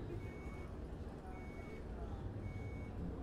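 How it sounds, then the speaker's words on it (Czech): A new-style reversing beep from an Iveco Crossway 10.8m bus in the OMSI 2 driving simulator repeats as three evenly spaced faint tones over a low engine hum. "cítíte se takový nový pípání, je prostě jiný, změněná, změněný pípání"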